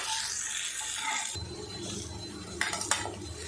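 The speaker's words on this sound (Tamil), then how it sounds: "முட்டைகோஸை நல்லா இந்த மாதிரி நீல வாக்கில் கட் பண்ணி வச்சுருக்கேன் மசாலாவோட நான் கலந்து எடுக்கிறேன்" Sliced cabbage being mixed with masala in a metal bowl, giving soft scraping and stirring with a few sharp utensil clinks near the end, close and fairly quiet, with no talking.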